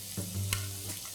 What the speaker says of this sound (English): Let's quickly stir fry these vegetables just for a minute